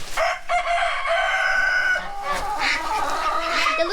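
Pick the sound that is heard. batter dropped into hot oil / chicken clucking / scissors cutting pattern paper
chicken clucking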